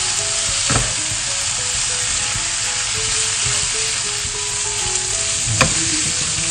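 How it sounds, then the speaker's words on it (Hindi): Minced meat (keema) sizzles steadily in a pan with tomatoes, a dense continuous frying hiss broken by a couple of sharper stirring scrapes, close and fairly loud, with no voices. "कीमा भुन गया है आप देख सकते हैं"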